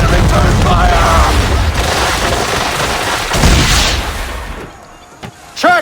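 Ship cannons firing during a naval battle in Assassin's Creed III, with loud booming blasts and rumbling broadside fire, a voice shouting among the sounds, and the din thinning out near the end.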